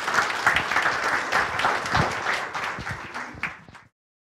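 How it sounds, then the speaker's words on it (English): A church congregation gives a warm round of applause during a Founders Day service, dense clapping that holds steady then tapers off and stops abruptly. "Give Jill a round of applause."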